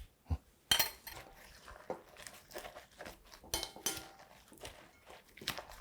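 Soft clinks and scrapes of utensils against a bowl as beaten eggs are mixed with shredded cabbage, quiet and intermittent with a few sharper taps standing out.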